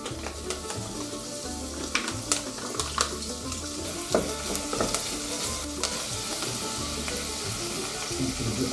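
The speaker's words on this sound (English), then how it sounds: "Then here come a few bacon cubes." Bacon cubes and onions sizzle and fry steadily in a pot, a dense continuous crackle with occasional sharper pops and faint stirring clinks, close and fairly loud, with no talk.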